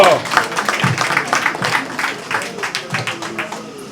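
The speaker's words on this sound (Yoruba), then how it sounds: "Ẹ pàtẹ́wọ́." An audience claps at a chieftaincy installation ceremony for an Oganla chief, a dense ripple of hand claps that is loud at first and then thins into scattered patting, with voices mixed in.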